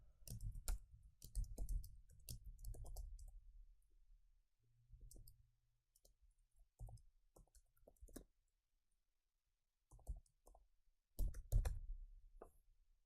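Keystrokes on a computer keyboard entering a test record into a web form, in irregular bursts of close clicks with short pauses and no talking.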